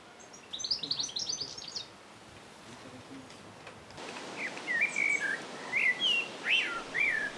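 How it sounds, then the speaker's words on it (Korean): Birds chirp and warble nearby in an urban setting in short bursts of song, a few high twittering phrases followed by louder whistled calls over a faint background hiss. "귀를 기울이면 소음이 아닌 새소리가 들립니다"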